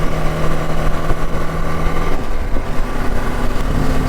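A new motorcycle rides along a fresh road in the early morning, its engine a steady, continuous drone with broadband wind and road rush, fairly loud and close, with no talk.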